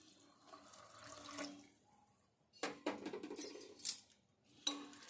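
Water is poured into a bowl of flattened rice (poha) to wash it in a home kitchen, soft splashing and trickling in short quiet bursts with brief pauses between.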